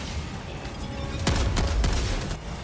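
A quick volley of gunshots in the video game Helldivers 2: several sharp shots in rapid succession over a steady rumbling battle background.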